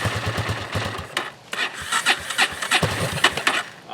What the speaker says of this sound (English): Oh, this battery sounds really weak.